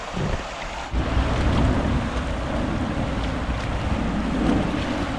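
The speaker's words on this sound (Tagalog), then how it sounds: "Lumakas na naman yung baha, no?" Strong flood water rushes loudly and steadily through a river crossing, a dense, continuous roar of turbulent flow close by with no pauses.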